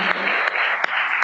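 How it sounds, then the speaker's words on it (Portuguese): A brief burst of steady applause from a crowd, dense and fairly loud, with a few sharper claps standing out. "Por favor, uma salva de palmas para o Renato."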